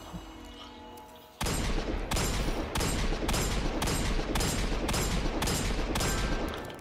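Hand cannon fired in the shooter game Destiny 2: after a quiet start, a run of about seven loud, evenly spaced heavy shots, each one echoing into the next.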